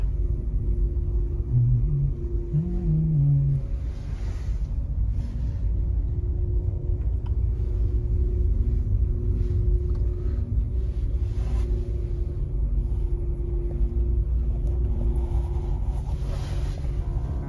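An electric car rolls slowly along a snowy road, giving a steady low rumble of tyres and cabin noise throughout, with a faint short chime partway through and no talking.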